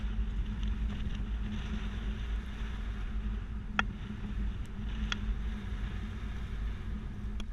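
A 2015 Nissan Rogue carrying a Swagman XC2 two-bike rack drives a slalom course, making a steady low road and engine rumble with a few sharp rattles and clicks from the rack.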